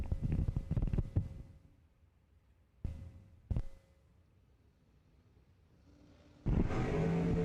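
Drag racing engines at a start line blip and rev in short loud bursts, then settle to a low idle and end with a sustained roar.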